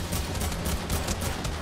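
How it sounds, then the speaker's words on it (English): Rapid gunfire in the video game Fortnite, a dense continuous burst of shots filling a short stretch, loud and close with no talk. "they're shooting the skeleton"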